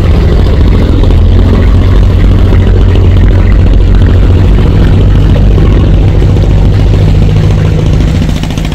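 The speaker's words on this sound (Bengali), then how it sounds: "রোকেয়া ছেড়ে যাচ্ছে ভোলার ইলিশা ঘাট থেকে লক্ষ্মীপুরের মজুরিয়াট ঘাটে।" Ferry Rokeya pulling away from Ilisha ghat in Bhola bound for Majuchoudhurirhat in Lakshmipur, its engine droning in a loud, steady low rumble that holds constant throughout with no voices.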